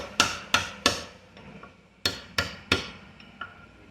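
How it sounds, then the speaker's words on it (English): A hammer taps out a bearing race from the rear gear box of a Toro 4500-D mower, about eight sharp metallic strikes in uneven pairs and clusters, close and loud with quick decays and no talk. "we're just going to hit the top with a hammer"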